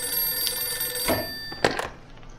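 A telephone rings in the video game Blues and Bullets, a clear electronic bell tone lasting about a second, followed by a few dull handling thunks as it is picked up.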